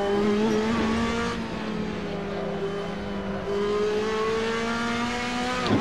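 A Ferrari 458 GT2 race car in Assetto Corsa at the Nürburgring holds a steady, droning engine note at high revs in the wrong gear, loud and continuous with a slight pitch sag and recovery.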